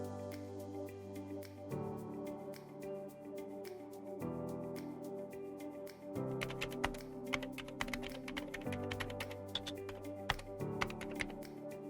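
Rapid keystrokes clatter on a computer keyboard in steady bursts with short pauses, fairly quiet and close, layered over a low sustained tonal background.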